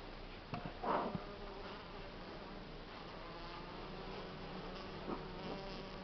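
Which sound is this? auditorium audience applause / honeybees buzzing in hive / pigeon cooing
honeybees buzzing in hive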